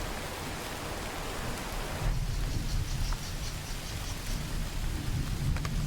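Heavy rain pours steadily over Guyana's savannah with low rumbling thunder beneath, the downpour growing denser midway and holding a constant, close wash of noise with no voices.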